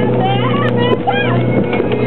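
Speedboat engine roaring at speed, a loud steady drone with water rush and slapping, while people shout and talk excitedly over it.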